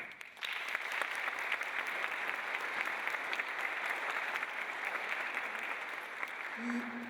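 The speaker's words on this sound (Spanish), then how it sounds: "para quien pido un aplauso" Lecture audience at the Cátedra Julio Cortázar applauding a former university rector, a steady, fairly quiet wash of clapping that starts abruptly and carries on evenly throughout.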